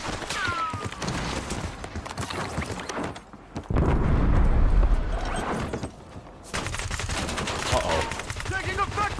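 Video game combat with bursts of gunfire and machine-gun fire, loud rattling volleys that come and go across the stretch, mixed with game radio voices and battlefield noise.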